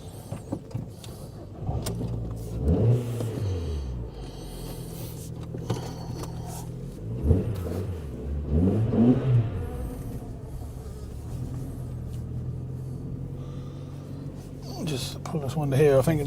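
A Ford Focus engine runs with a humming drone that swells and falls as the revs rise and drop, heard from close by while someone talks over it.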